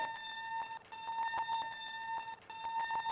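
A steady, high electronic buzzing tone from a skid steer's glow plugs cycling drones continuously, briefly dipping twice, fairly faint with a faint mechanical ticking underneath.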